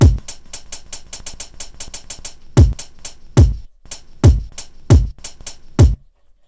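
A drum loop on an MPC 2000XL sampler plays crisp, rapid hi-hat ticks in a steady rhythm, punctuated by deep booming kick hits every half second or so, ending abruptly.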